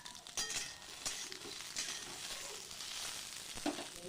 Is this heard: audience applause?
no